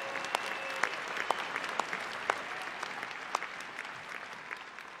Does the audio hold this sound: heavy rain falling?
no